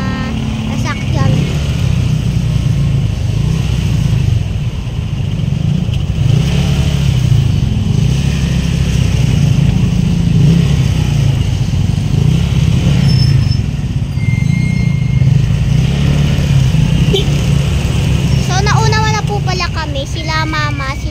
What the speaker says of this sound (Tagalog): Kasi tingnan nyo guys, ang daming mga sasakyan.